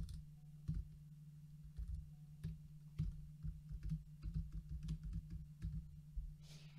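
Soft keystrokes tap on a computer keyboard while a title is typed into web builder software, scattered clicks becoming a quicker irregular run toward the end over a low steady electrical hum.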